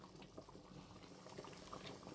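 Oha soup, thickened and bubbling steadily in a pot, gives a close, continuous boil with small pops and gurgles at a low, even level and no talk over it.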